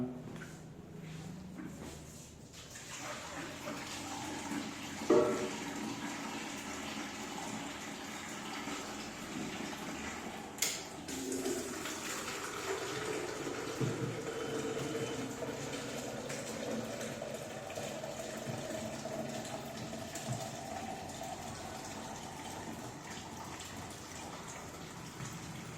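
Milk ATM dispensing 2 litres of milk into a beaker, a steady pouring gush running throughout, with a couple of brief clunks from the machine early on.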